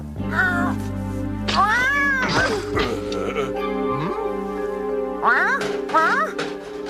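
Cartoon cat meowing in several rising, wavering calls over a steady musical background, fairly loud and close, with brief clattering sounds in between.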